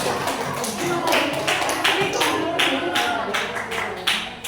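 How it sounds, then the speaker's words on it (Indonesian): A classroom of students applauds a student group after its presentation, with a bright, steady patter of clapping hands and some voices mixed in. "Tepuk tangan untuk kelompok saya."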